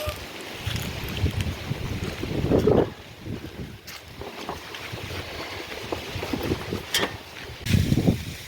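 Gusty wind buffets the microphone in uneven surges, with a couple of louder rushes standing out over a constant outdoor rumble.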